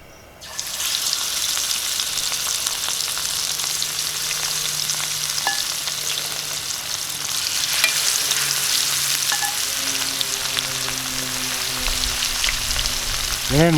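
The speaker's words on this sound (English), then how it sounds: "We'll get to frying." Idaho finger steaks fry in a hot skillet with a loud, dense continuous sizzle and crackle that swells slightly over time, with a faint low engine drone in the background and no talk.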